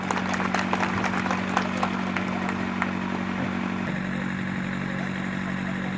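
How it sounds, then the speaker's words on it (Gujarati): Clapping from an audience at a Gaushala Dayro gathering, a moderate, continuous patter of hands over a steady low hum from sound equipment, thinning out after a few seconds. "આપણે એમને તાળીઓથી વધાવીશું."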